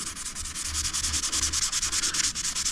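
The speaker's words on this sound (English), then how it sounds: "We'll now sand up this primer, just very lightly, because you'll go straight through it otherwise." Light sanding of primer on a Honda CRF300L motorcycle frame with fine 800-grit paper, a steady rhythmic scratching of quick back-and-forth strokes, close and continuous with no talking.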